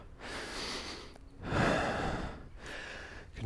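Three deep breaths drawn and released through the nose during an intense cardio yoga workout, close and clearly audible, with soft pauses between each airy inhale and exhale.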